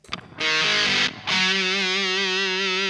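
A heavily fuzzed electric guitar plays sustained, buzzing notes with a gritty, saturated tone, briefly cutting out between two held chords.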